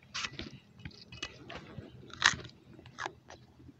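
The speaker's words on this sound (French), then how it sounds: "Je consomme tout simplement cette racine qui va me donner de l'énergie" A root is eaten raw in the savanna, heard as close, wet bites and crunchy chewing in irregular bursts with one louder crunch midway, with no talking.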